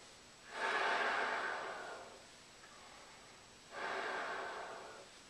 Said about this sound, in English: maybe send a couple of breaths of air